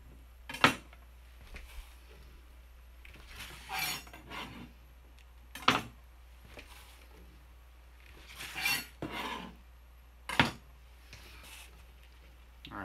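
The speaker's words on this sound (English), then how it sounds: "And put our tempeh into the pan here." Tempeh going into a heated frying pan, with a few sharp clinks and scrapes of utensils against the pan spread across the moment, and no sizzle standing out.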